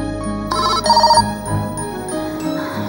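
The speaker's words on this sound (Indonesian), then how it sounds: "Semoga aja Bu Vina nggak dengar suara ini handphone." A mobile phone ringtone plays loud and close, a repeating melodic electronic tune with bright chiming notes, with no talking over it.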